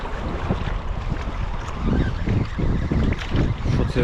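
Rough waves slosh and splash against a fishing boat on cold water while gusty wind buffets the microphone, loud and close, with a low rumbling undertone.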